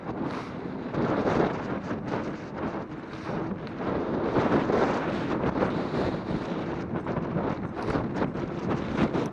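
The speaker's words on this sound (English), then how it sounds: "Holy, that's windy." Strong wind buffets the microphone while riding an electric bike, a steady loud roar with gusty surges and low rumbling, no voices.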